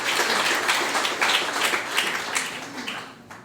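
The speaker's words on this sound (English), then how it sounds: "A warm applause again for Gregory Camejo and One Caribbean Media." A warm round of audience applause at the 2018 OCM Bocas Prize literary award ceremony rises in dense bursts, then gradually thins and fades toward the end.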